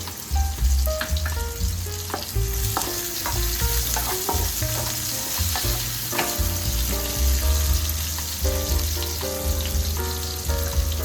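Onion, ginger and green chillies fry in a pan with loud, close, continuous sizzling. Repeated stirring scrapes and clinks against the pan throughout.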